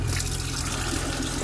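Water gushes steadily from a pumped line on a 1979 GMC Vandura 3500 camper van into a bucket outside, a continuous close splashing flow with no pauses.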